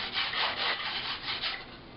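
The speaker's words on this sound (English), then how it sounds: "you need to grip very close to where you're sanding, otherwise you're going to crease your foam" Hand sanding along the edges of a foam catapult glider gives a steady, close, scratchy rasp in repeated back-and-forth strokes, with no voices.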